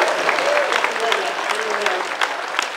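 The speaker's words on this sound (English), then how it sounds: "Big round of applause to this." Audience applause at a Wizard World Philly 2011 fan convention Q&A with a celebrity guest, a steady burst of clapping from the crowd lasting a few seconds, with some voices mixed in underneath.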